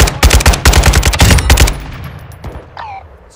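Rapid automatic gunfire rattles loud and close in Warzone 2.0 DMZ, a steady burst of shots for over a second before cutting off into fading echo and faint game sounds.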